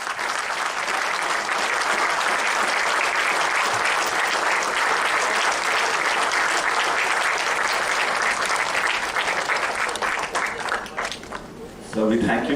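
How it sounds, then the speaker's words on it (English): A lecture audience on a college campus gives a long, dense round of applause with a standing ovation, loud and continuous throughout and fading slightly near the end. "give a big round of applause to him"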